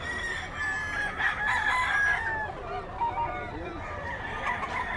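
Roosters and chickens at the busy Friday Bocaue pet market, crowing and clucking at moderate distance over a steady crowd murmur.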